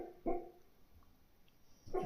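A sleeping dog gives soft whimpering, muffled yips during a nightmare, two short bursts at the start and end of the moment with quiet breathing between, close by.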